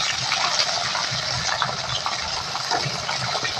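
Prawns are dropped into a hot frying pan with oil, raisins and green chilies for a banana-flower curry, producing a steady, loud, close sizzle and hiss throughout with no speech.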